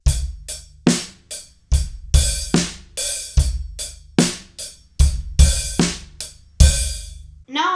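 Two variations of a song's drum beat linked together at a slow tempo: kick thumps under sharp snare and ringing cymbal hits in a steady pattern, close and unaccompanied, ending with a short fill.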